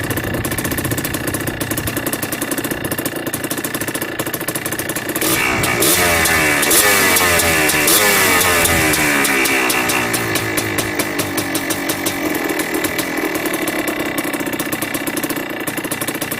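A Yamaha Blaster ATV two-stroke engine runs steadily at idle with a rough, buzzing putter. Midway it revs up briefly, then settles back to a smooth idle.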